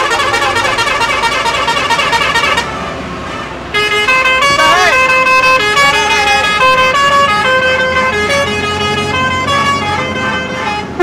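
Buses and cars labour up a steep hill road on a ghat, horns honking repeatedly and loudly in layered, overlapping blasts, with a brief drop in the middle, then more honking, close and continuous.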